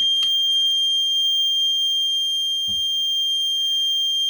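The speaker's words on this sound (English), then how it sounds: "once it starts bending from the heat, it will activate then the alarm" A heat sensor alarm gives a steady, piercing electronic tone continuously throughout, with a couple of brief clicks or bumps underneath.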